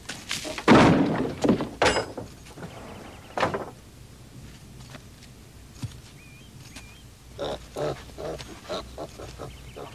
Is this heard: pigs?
yes